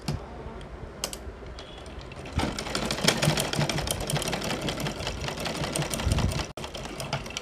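A sewing machine stitches a boat-neck kurti sleeve, starting with a few isolated clicks before a fast, continuous rattling run of stitches that stops abruptly near the end, up close with no talking.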